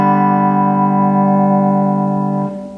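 A Leslie 910 rotary tremolo reverb speaker plays a steady sustained organ chord with a little reverb and no rotary effect, loud and alone, fading slightly near the end.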